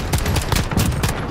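Rapid bursts of gunfire from Call of Duty: Modern Warfare multiplayer, several loud cracking volleys in quick succession with dense, steady combat noise throughout.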